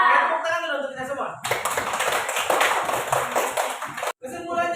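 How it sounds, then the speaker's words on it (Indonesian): A group of students in a classroom lesson applauds together, a dense burst of hand clapping lasting about three seconds, set between stretches of a teacher's voice speaking before and after. "Tepuk tangan dulu untuk kita semua."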